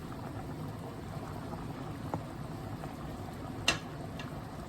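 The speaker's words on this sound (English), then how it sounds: "We want to make sure that the noodles don't boil over while we're making our cheese sauce" Macaroni noodles boil in a pot on the stove, a steady low bubbling and simmering that holds even throughout, with a couple of brief clinks near the end.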